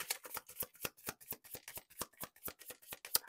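Rapid crisp riffle of tarot cards being shuffled, a quick run of papery flicks and snaps close up, fairly quiet with no talking.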